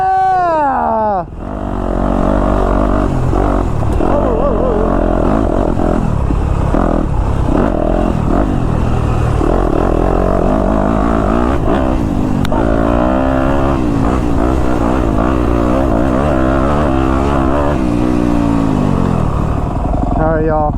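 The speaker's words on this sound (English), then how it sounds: "250F just chugs up that hill, no problem, no question." A 250F dirt bike engine labors up a hill, loud and close, a sustained chugging rumble with shifting pitch as the throttle varies, running steadily for about twenty seconds.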